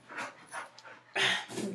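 A dog indoors panting close by, several quick breathy bursts in an uneven rhythm, the last ones louder and harsher, with no talking.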